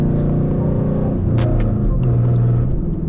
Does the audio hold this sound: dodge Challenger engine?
yes